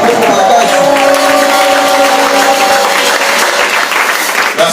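A church congregation applauds and cheers loudly and continuously during a worship service, a dense wash of clapping and voices filling the whole stretch.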